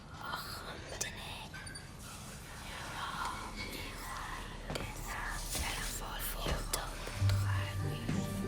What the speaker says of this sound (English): the keys kind of whisper to them